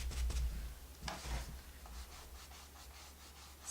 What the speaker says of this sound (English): We're going to attempt to do some dry rubbing with Scarlet on the red.